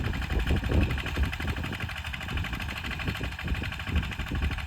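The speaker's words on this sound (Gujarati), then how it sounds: "સનેડો ટ્રેક્ટર કહેવાય, નાનો સનેડો ટ્રેક્ટર હાલે" A small Sanedo tractor running in a farm field during groundnut sowing, its engine producing a steady low chugging drone with rough rhythmic knocking, close and continuous.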